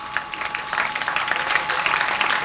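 An audience claps for a monk receiving his 105th initiation at a 1993 Navratri spiritual camp in Bhilai, Chhattisgarh: dense, sustained applause from a sizable crowd, steady and lively throughout, with no voice over it.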